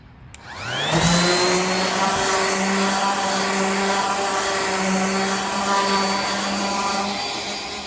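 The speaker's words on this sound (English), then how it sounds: "Now I'm going to go down to 120 grit sandpaper and do another sand" A power sander hums loudly and steadily close by as it works over a wooden door with 120 grit sandpaper, spinning up at the start and running for several seconds without talk.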